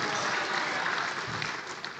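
Audience applause for Pak Nusron Wahid at a Halal Bi Halal gathering of PB IKA PMII, a dense, continuous wash of clapping from a crowd, fairly steady throughout.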